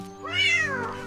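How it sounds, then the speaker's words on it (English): A single clear cat meow, drawn out and rising then falling, close and alone. "This is a cat."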